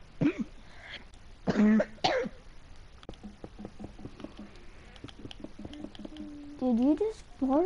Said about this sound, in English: No, I coughed.